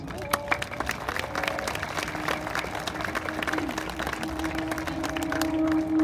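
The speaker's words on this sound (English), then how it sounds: "let's give a big round of applause to them" An audience applauds students at an 8th grade promotion ceremony, a dense, sustained wash of clapping and crowd noise in a large room, with a voice speaking over it and a steady tone running beneath.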